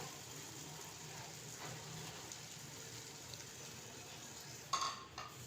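Arbi (taro root) frying in a pan over medium heat makes a soft, steady sizzle, quiet and continuous, with a brief clink near the end.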